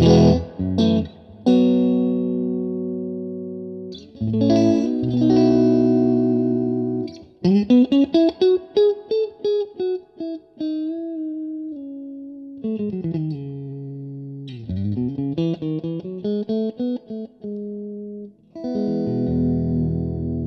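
Electric guitar through an Orange TremLord 30 amp in bedroom mode, with distortion and effects, strummed chords and melodic runs ringing out loudly for about twenty seconds.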